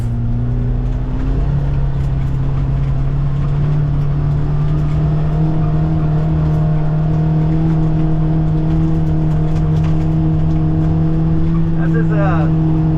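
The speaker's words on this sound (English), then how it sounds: "it has a little bit more power programmed through the ECU and also in the exhaust system" A 2024 Kawasaki Ridge XR side-by-side drives a tight course with its engine and exhaust droning steadily at a constant pitch, loud and close throughout, with a faint whine near the end.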